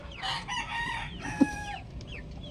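Chickens cluck and a rooster crows nearby on a small farm, the calls overlapping in bursts over a low steady background, with one brief sharp knock partway through.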